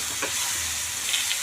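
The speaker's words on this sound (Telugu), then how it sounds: "దొండకాయలు పట్టేలాగా శుభ్రంగా కలుపుకోవాలి." Ivy gourd sautés in a pan, giving a steady soft sizzle with a couple of faint scraping stirs, close and continuous with no voices.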